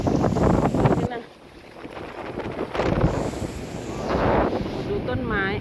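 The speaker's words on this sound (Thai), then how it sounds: "ดูต้นไม้ลมแรงมาก" Strong storm wind gusts roaring through trees in front of a house during a heavy storm, loud and buffeting the microphone, with people speaking excitedly over it.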